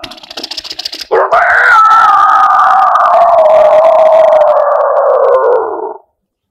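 A voice mimics a Jurassic Park dinosaur with one long, loud, wavering roar-like howl that swells in after a short rustle and holds for about five seconds before cutting off.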